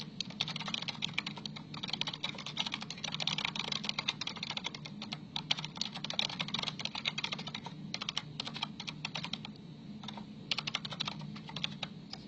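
Steady, rapid typing on a computer keyboard while filling in an online registration form, a continuous run of close, crisp key clicks with no talking.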